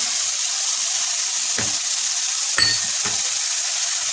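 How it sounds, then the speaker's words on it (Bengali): Spices sizzle and fry steadily in oil in a pan, a constant bright hiss with a few soft stirring scrapes and taps, no voices. "ভালো করে মশলাটা কষিয়ে নেব।"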